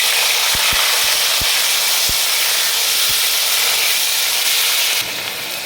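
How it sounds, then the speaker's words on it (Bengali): Onion paste dropped into hot oil for a spicy tangra fish curry, a loud, dense hissing sizzle with a few low thumps early on, easing slightly near the end, no voices. "পেঁয়াজ বাটা দিচ্ছি"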